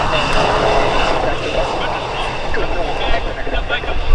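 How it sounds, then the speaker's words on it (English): A fixed-wing airplane engine roars loudly and steadily at the EAA AirVenture Oshkosh airshow, a continuous close drone that swells toward the end. "Paul, runway 36, line up and wait."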